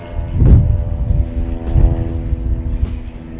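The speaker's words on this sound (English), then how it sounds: "The plane!" An airplane passing overhead outdoors, a loud droning engine hum that holds steady throughout, with a few heavier thuds of nearby activity mixed in.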